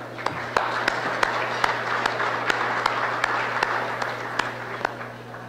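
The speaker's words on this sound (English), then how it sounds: "Can we give a big round of applause for each of you wonderful people present here tonight?" Audience applause at a 2012 IACF community gathering: an even roll of many hands clapping, with one nearer clapper landing sharp, regular beats over a low electrical hum.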